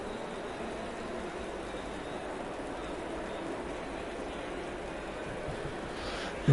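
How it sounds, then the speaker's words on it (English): Rain in the sim racing game Assetto Corsa Competizione at the Imola circuit: a steady, even hiss of rainfall across the whole stretch, constant and moderately loud with no breaks. "It's raining. It is raining."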